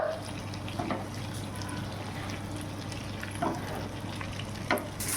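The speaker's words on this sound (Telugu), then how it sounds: "ఇలా మన ఇంగువ నేతిలో వేగాక" Asafoetida (hing) sizzles in hot ghee for a South Indian kattu pongal tempering, giving a steady, soft frying hiss with a few brief stirring scrapes over a low background hum, and no talking.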